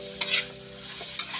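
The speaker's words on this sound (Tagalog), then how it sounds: "So medyo i-saute ko muna to siya guys bago ko ilagay ang aking" Ingredients being sautéed in a pan before leftover rice goes in, with a steady sizzle and sharp scraping stir strokes repeating a few times in a short, close burst.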